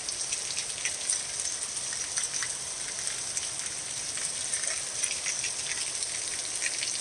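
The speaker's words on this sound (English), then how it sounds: "That's just a couple minutes of rain." Steady summer rainstorm, rain pouring down and drumming on surfaces in a dense, continuous hiss close by, with no voices.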